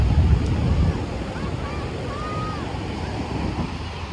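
Wind and ocean waves at the Galveston seawall on a cold, windy day, a steady broadband rush of surf and gusts buffeting the microphone, loudest at the start, with a faint tonal whine drifting through midway.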